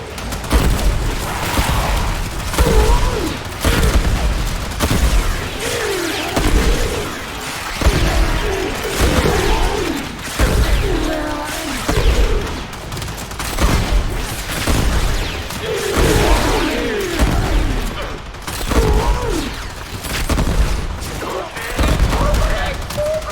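Dense, continuous gunfire and explosions roll through a Warframe battle, rapid weapon bursts and booms layered thickly for the whole stretch, with a voice talking now and then over the action.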